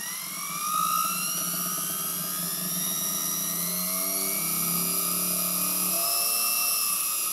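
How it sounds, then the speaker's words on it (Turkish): Small electric motor fitted with a single-channel optical encoder spins up, a thin, high whine rising steadily in pitch as the speed increases, running continuously and alone at close range. "Motor devrini arttırıyorum."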